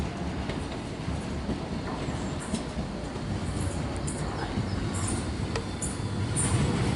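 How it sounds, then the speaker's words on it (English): An automated DLR light railway train approaching Greenwich station, a steady low rolling rumble with faint rail clicks, growing slightly louder toward the end. "Here comes the train."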